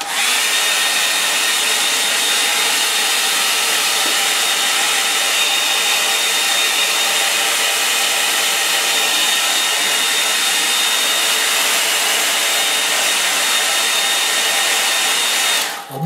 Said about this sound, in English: I'll dry that with the hairdryer.